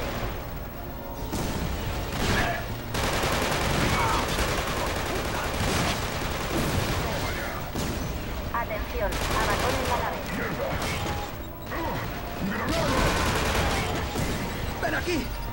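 Gunfire in the video game Killzone 2 during a spaceship evacuation, with dense automatic bursts, heavy impacts and explosions running without a break under game voices and shouting.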